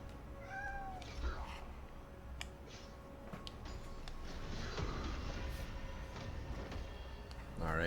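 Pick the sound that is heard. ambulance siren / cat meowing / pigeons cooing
cat meowing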